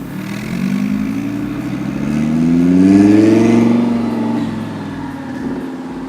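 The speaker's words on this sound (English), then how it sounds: "There it is, twin turbo Huracan." A twin-turbo Lamborghini Huracan on a Miami street, its engine revving up into a loud rising drone that peaks midway and then eases off as the car passes close by.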